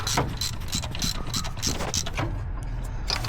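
A ratchet tightens a bolt on the secondary air injection pump of a 2007 Toyota Tundra, making rapid repeated clicking bursts over a low background hum, close by and fairly loud.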